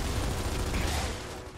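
Gunfire in a Gears of War game rattles as a dense, continuous burst of rapid shots, loud and close, filling the brief moment without any voice.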